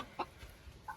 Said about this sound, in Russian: Это шелковая курочка.